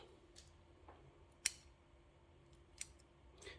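Scissors snipping oak bonsai leaves off at the petiole, two or three sharp close clicks spaced a second or so apart over a quiet background, with no voices.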